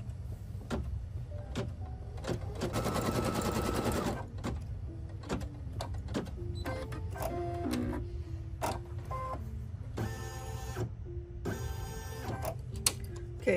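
An embroidery machine sews a placement stitch on batting in the hoop, giving a continuous close mechanical hum with rapid ticking stitches and short whirring motor movements between runs.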